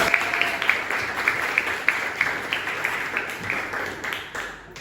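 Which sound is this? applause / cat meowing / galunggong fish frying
applause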